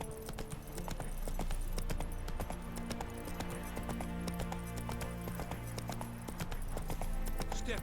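Hooves of the horse Roach clop steadily in The Witcher 3 video game, a continuous rhythmic trot with occasional snorts under a faint game soundscape.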